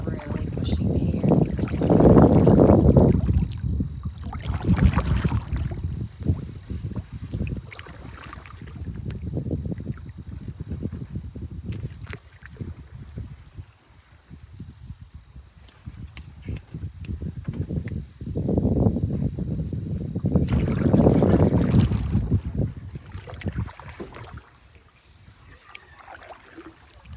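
Wind gusting around a canoe paddler on a fall lake trip in Massasauga, swelling roars of wind noise rising and falling across the clip with faint water sounds between gusts.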